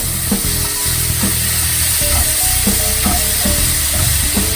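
Beetroot fried with ginger in a hot pan on the stove, a constant loud sizzle with repeated scraping and stirring strokes of a spoon against the pan, close up.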